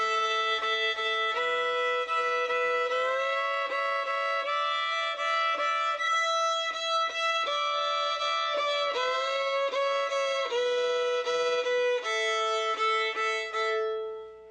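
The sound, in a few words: instrument playing half scale, Nashville shuffle and slidey 2 combined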